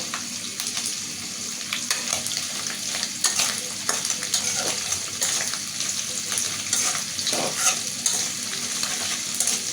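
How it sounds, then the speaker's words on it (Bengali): Prawns sizzle and fry in a pan for a bottle gourd ghonto, with steady spitting oil and repeated scraping stirs throughout, close and fairly loud, no talking. "চিংড়ি মাছটাও কিন্তু আমার সুন্দর ভাজি হয়ে গেছে"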